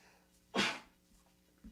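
A single sharp human sneeze bursts out close by in a quiet studio room, followed a second later by a faint short vocal sound.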